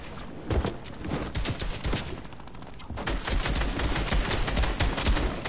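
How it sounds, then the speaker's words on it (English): Video game gunfire in rapid repeated bursts, loud and close, continuous through the stretch with dense sharp cracks and low thumps. "This gun is hard to get a kill with."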